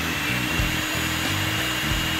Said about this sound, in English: this is the first test run for our new blower, which is running here.